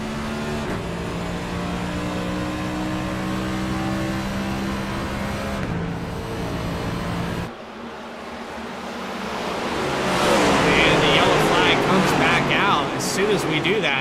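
An onboard race car engine at Talladega in the iRacing video game drones steadily under commentary, then drops out and gives way to a louder rushing roar of wind and engine noise.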